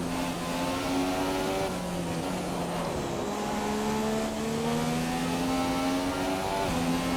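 Alonso's McLaren Honda Formula 1 car racing at Suzuka International Circuit in Japan, its high-revving engine screaming loud and close, climbing through rising pitch sweeps with brief dips at gear changes, no voices.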